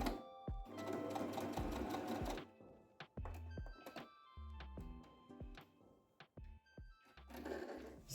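A sewing machine backstitches tote bag fabric in short, uneven bursts of fast mechanical clatter separated by brief stops and clicks, close and clear.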